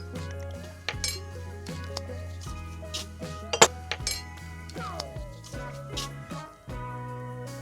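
Light soy sauce spooned onto pork for a Chinese-style pork chop marinade, heard as metal spoon and dish clinks, taps and scrapes in an irregular rhythm, close and fairly quiet.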